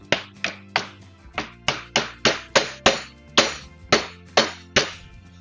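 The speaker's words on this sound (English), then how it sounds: "My hammer and give it a tap." Sharp hammer taps driving a wooden piece into a wooden mast during repair, about fifteen crisp, close, evenly spaced strikes, each ringing briefly before the next.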